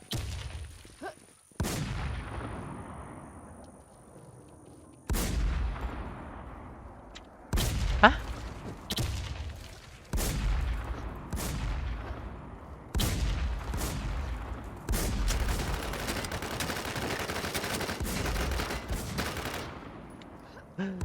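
Shooting in the online game Thecrown Classic: heavy, booming shots at intervals of a few seconds, each with a long ringing decay, about eight blasts in all.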